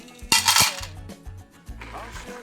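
Small pebbles dropped into a metal cooking pot, a few separate bursts of bright clinking and rattling with short gaps and a softer final rattle.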